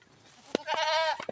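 Goats bleat on a farm in the rural provinces, one wavering, drawn-out bleat rising out of a quiet background with a few short sharp knocks around it, fairly close.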